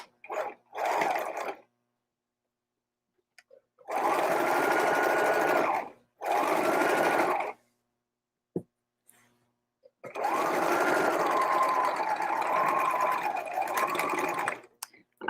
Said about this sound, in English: I'm doing like one stitch on the edge of the pocket.